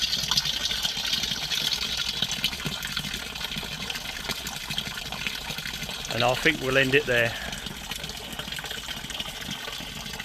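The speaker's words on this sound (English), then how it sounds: "And I hear water." Water runs and trickles steadily through a dense, jungle-like secret garden in Crystal Palace, a soft continuous wash heard close by, with someone talking briefly over it.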